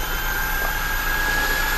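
An M2 10J radio-controlled helicopter's rotor spins up at low, near-idle speed, giving a steady whirring whine with a constant high tone over broadband hiss, close and continuous throughout.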